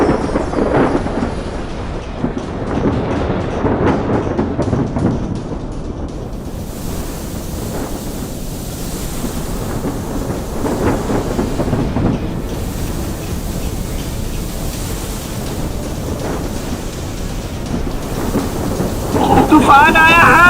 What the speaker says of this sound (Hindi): तभी बीच समुद्र में अचानक भयानक तूफान आ जाता है।